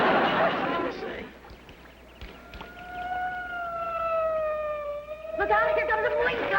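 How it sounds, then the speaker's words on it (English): A police car siren wails in a steady rising and falling tone for several seconds within a TV sitcom scene, with brief voices and background noise at the start and end. "Look out, here comes a police car!"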